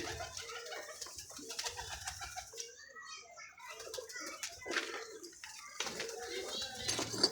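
Domestic pigeons coo repeatedly in a home loft, a steady chorus of soft, throaty calls with occasional wing flutters, close by and fairly loud throughout.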